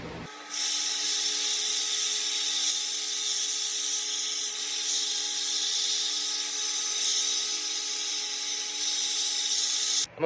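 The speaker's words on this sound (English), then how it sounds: "I've already started wire wheeling this part of the axle tube" A wire wheel grinds rust off the axle tube of a Sterling 10.5 Super Duty truck axle, a steady, loud, high-pitched metallic whir that runs unbroken for about ten seconds with no talk.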